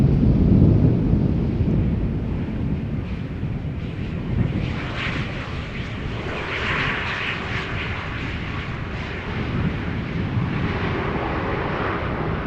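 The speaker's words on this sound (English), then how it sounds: "That would be a Pegasus A321 Neo, arriving from Istanbul" A Pegasus Airbus A321neo arriving at Schiphol from Istanbul: a loud, broad engine roar close overhead that is strongest at first and then eases into a steady rumbling wash, with no talking.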